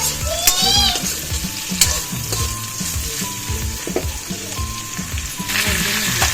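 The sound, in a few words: potatoes frying in oil in a wok with spices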